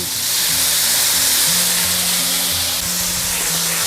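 Bamboo shoots and chicken offal stir-frying in a pan with chili and oyster sauce, a loud, close, continuous hissing sizzle with a faint tonal hum running underneath.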